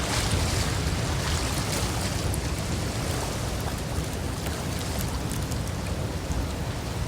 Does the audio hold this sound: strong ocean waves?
yes